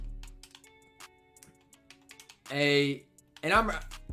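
Quick, light clicks of keyboard typing in irregular bursts, with a voice speaking briefly near the end.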